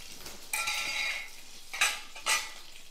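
Oil heats and sputters in a pan for a chutney, giving a soft sizzle with bright crackling bursts and a few clinks of a spoon against the pan, with no voices.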